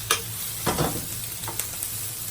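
Onions frying in butter or oil in a pan, a continuous close sizzle broken by a few quick scraping stirs.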